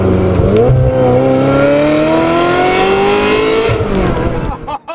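A Ferrari 355 Spider engine revs loudly in a tunnel, rising steadily in pitch and echoing off the enclosed space, then drops off with a short burst of noise.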